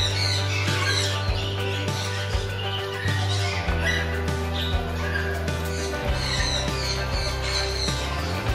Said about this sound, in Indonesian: kita juga bisa berinteraksi langsung dengan burung-burung yang berkeliaran di sekitar kita